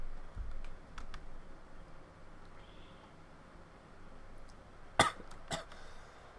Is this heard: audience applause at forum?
no